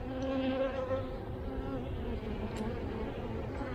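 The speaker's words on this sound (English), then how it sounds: "the bees will land on my hands" Honey bees buzz steadily around an opened hive during an early-year February inspection, a continuous faint droning hum with a few louder passes close by.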